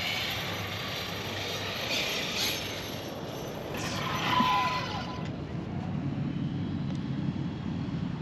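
Upgraded Traxxas X-Maxx RC truck with a MAX5 speed controller races past outdoors, its motor whine rising and fading with a steady rush of wind and road noise.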